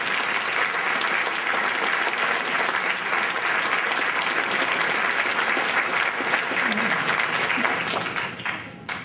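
Parish congregation applauding the construction volunteers during a Christmas Eve Mass at the Church of Our Lady of Guadalupe, sustained dense clapping filling the church before fading at the end.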